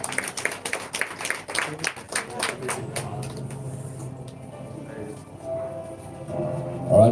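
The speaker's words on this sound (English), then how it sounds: "a big round of applause, please." An audience claps at a partnership signing and KashPlus product launch: a burst of many hands in the first few seconds, fading into murmuring voices and room noise.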